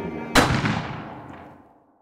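A single loud gunshot fired in Red Dead Redemption roleplay, a sharp crack followed by a long echoing tail that rolls away and fades over about a second and a half, with no talk over it.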